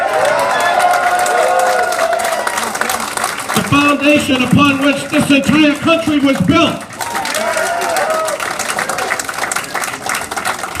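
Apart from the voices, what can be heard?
crowd cheering and applauding at a politician's speech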